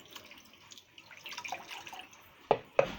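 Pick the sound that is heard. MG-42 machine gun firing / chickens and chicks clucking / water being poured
water being poured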